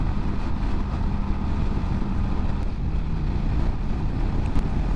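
A Kawasaki Vulcan 900 motorcycle cruising on the freeway in high gear, its steady engine drone mixed with loud, constant wind rush against the microphone throughout.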